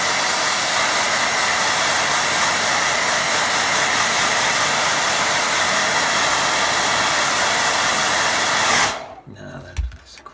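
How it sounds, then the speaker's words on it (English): A hair dryer blows steadily and loudly at close range while drying a watercolour painting of a waterfall and lake. It runs without a break for about nine seconds, then switches off, leaving faint rustling. "Now another dry with dryer,"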